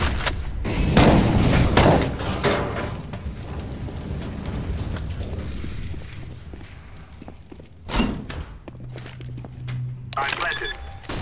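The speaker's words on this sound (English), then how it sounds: "I'm throwing a flashbang." A flashbang grenade is thrown in Counter-Strike: Global Offensive amid a busy match, with footsteps and thuds and a distinct thump partway through. Game noise and voices continue around it.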